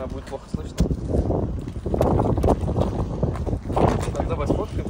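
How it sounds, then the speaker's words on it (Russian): Heavy wind buffets the microphone in a constant roaring rumble while people talk underneath, their voices partly drowned out. "Ой, какой ветер."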